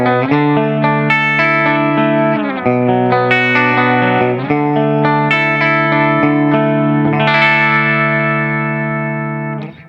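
Electric guitar played clean with bright, sparkly tone and clear string-to-string definition, a flowing series of chords and arpeggiated notes ringing with light effects, close and steady.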